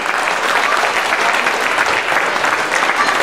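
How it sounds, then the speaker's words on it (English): A loud, dense burst of audience applause for advisory board members at a thank-you event, continuous clapping from a large crowd sustained evenly throughout with no voices standing out. "A big round of applause for them too,"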